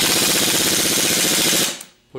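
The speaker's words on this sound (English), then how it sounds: "Then we're going to use our 1/2-inch impact with the 15/16 socket." A loud, close half-inch impact wrench with a 15/16 socket hammers in a rapid rattling burst for about a second and a half, then stops abruptly, working on a 6G alternator.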